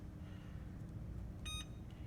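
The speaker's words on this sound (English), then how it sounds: "I'm going to set the timer" A gas range timer being set gives a short burst of electronic beeps midway through, heard over a steady low hum in the kitchen.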